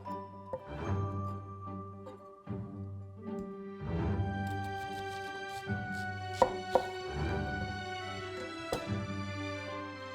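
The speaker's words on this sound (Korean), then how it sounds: "양파를 반으로 썰어 주세요." A knife slices an onion in half on a cutting board, a few sharp, separate cuts and taps spaced out over steady background music.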